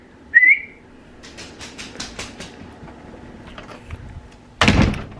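A door closes at home with a loud, close thud at the end, after a short squeak and some scattered light knocks and shuffling.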